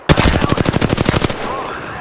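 Automatic gunfire in a shooter video game: one loud, close burst of about a dozen rapid evenly spaced shots lasting just over a second, then a short fading tail.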